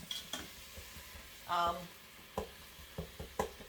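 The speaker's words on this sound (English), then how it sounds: "we're browning this sausage" Sausage sizzles softly as it browns in an Instant Pot while a utensil stirs and scrapes, with intermittent clinks of metal against the pot.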